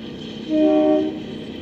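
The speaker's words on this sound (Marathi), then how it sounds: "शिमलाला आली टॉय ट्रेन." A toy train pulls into Shimla station in Himachal Pradesh and sounds one sustained horn blast of about half a second, loud and close over a low rolling rumble.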